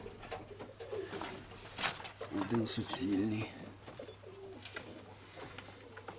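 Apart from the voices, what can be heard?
pigeons cooing in a loft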